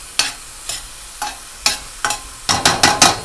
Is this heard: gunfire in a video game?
no